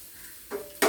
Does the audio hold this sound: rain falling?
no